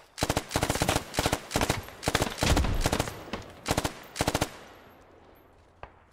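Automatic gunfire in a squad shooter game rattles out in several loud, close bursts, tight rhythmic volleys that stop abruptly and leave a fading tail and one late faint shot.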